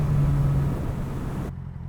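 A car rumbles close behind a moving motorcycle, a steady low engine drone with a brief tonal hum at the start and broadband road and wind noise, cutting off abruptly near the end.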